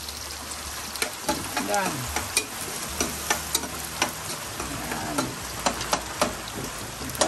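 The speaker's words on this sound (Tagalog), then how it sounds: "Yung sibuyas. Ayan. Gisa." Onions sauté in a pan outdoors, with steady sizzling and repeated clinks of a spatulla stirring, while a person speaks briefly over the cooking.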